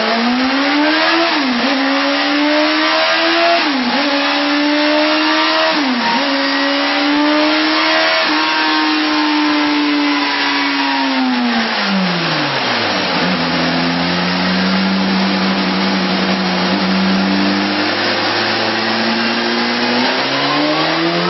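A brand-new 2010 BMW S 1000 RR superbike with break-in oil winds up loud and close, its engine revving hard through several rising pulls with brief shift dips, then settling into a lower, steady roar.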